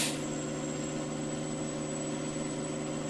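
An old Detroit-engined truck in Farming Simulator 19 runs with a steady, even drone and a thin, high, constant whistle riding on top, heard close and uninterrupted throughout.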